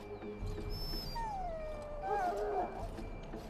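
A dog whimpers and whines in Dragon Age Origins, with a few rising and falling high cries over a low rumbling game background, fairly close and moderately loud.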